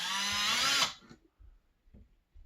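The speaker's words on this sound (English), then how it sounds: "Alright, so now we'll drill the holes in." A power drill whirs loudly for just under a second while drilling holes in a wall for guitar hangers, its pitch rising slightly before it stops, followed by a few soft knocks and handling sounds.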